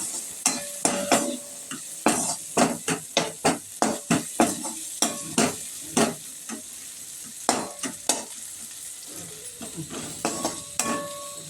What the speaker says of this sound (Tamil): கொஞ்சம் சிம்மில் வச்சு நல்லா வதக்கிடுங்க